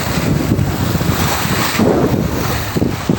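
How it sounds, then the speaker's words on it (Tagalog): Rough, roaring surf of strong ocean waves breaking close by at high tide, with heavy wind buffeting the microphone throughout. "lakas ng alon, taas ng dagat"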